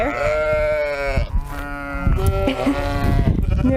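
Sheep bleat loudly and repeatedly in a farm pen, several overlapping calls close by with hardly a pause, a mixed group of animals growing excited.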